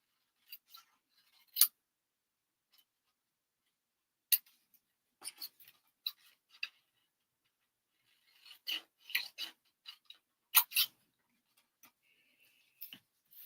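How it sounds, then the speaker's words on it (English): Scissors cut away paper triangles while making a card: scattered crisp snips and rustling paper come in bursts with quiet gaps between them, close and soft, no talk. "Cut away those triangles."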